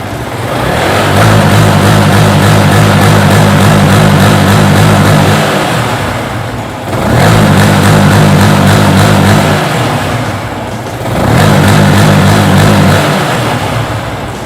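Car engine revving repeatedly into a 6,000 RPM limiter set by a Tune Boss ECU, three loud sustained bursts each holding steady at the cut before dropping back, close up with no talk.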